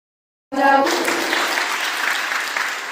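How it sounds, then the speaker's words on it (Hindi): After silence and a brief vocal sound, a large audience at a Jain religious discourse breaks into loud, sustained applause, a dense even roar of many hands continuing to the end. "अपने पुण्य के लिए ताली"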